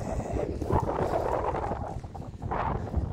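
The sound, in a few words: wind blowing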